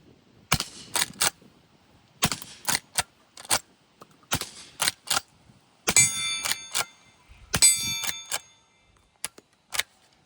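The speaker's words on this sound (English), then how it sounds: "let's take some shots and show you guys how quiet it is with 38 Special" A suppressed 9mm silencer firing 38 Special rounds outdoors: a string of sharp, muffled reports with pauses between them, some quick doubles, and metallic clinks from the gun's action, no talk.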